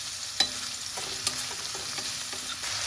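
Tomatoes frying in a pan with jackfruit and moong dal, a steady sizzle broken by a few sharp spoon clinks and scrapes as the mixture is stirred.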